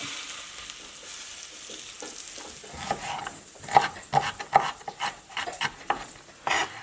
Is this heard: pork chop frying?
yes